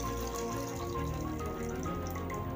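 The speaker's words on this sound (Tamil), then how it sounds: "ரெண்டாவது நான் புளிக்கரைசல் எடுத்து வச்சுருந்தேன் இல்லையா, இதையும் இது கூட சேர்த்துடலாம்." Tamarind extract pours steadily into a Thoothukudi-style fish curry, giving a continuous liquid splashing and trickling sound, close and fairly soft, with no talk.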